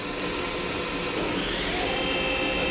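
A Hyundai Wia F650 CNC machining center with a 40-taper spindle runs at 2,000 RPM, giving a steady broadband whir with a faint tone that climbs partway through.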